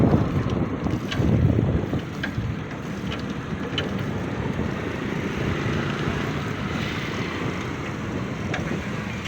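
Steady wind buffeting the microphone with a low rumble, heard alone and fairly loud throughout, with faint higher rustling over the top.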